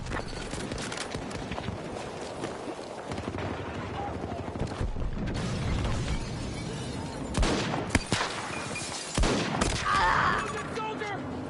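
Heavy gunfire and battlefield explosions from the Battlefield 2042 video game trailer, with bursts of automatic fire and louder blasts rising near the end, under urgent shouted soldier voices.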